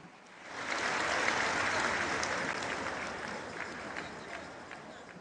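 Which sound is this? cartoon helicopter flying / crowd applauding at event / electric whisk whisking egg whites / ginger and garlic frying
crowd applauding at event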